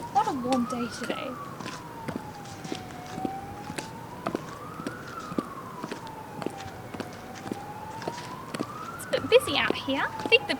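A police siren wails slowly up and down at a distance, heard over steady street background noise with occasional footsteps.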